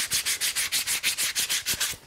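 A wooden shoe last is hand sanded with fast, even back-and-forth strokes, about a dozen rhythmic rasping passes, close and steady with no talking.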